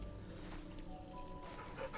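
A happy puppy in the Final Fantasy 16 video game whimpers and pants softly over steady game background sound, with no talk.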